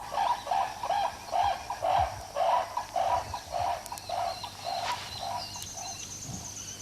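Brolga cranes call from open, desolate grassland, giving a run of evenly spaced, repeated calls at moderate distance, with no one speaking.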